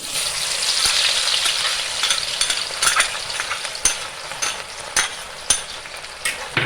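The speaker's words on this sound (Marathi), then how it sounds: "आता त्याच्यामध्ये अगोदर मी लसूण भाजायला घेते कारण लसूण कडकडीत भाजला पाहिजे" Garlic frying in hot oil in a pan, a steady bright sizzle that slowly eases off, broken by occasional sharp taps and clinks of a spoon against the pan.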